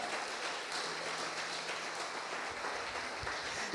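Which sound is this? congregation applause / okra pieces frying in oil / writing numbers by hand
congregation applause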